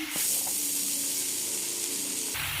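Potatoes and tomato frying in a pan, a steady hiss and spray of oil filling the whole stretch, with a brief clatter near the start and a lower bubbling shift at the very end.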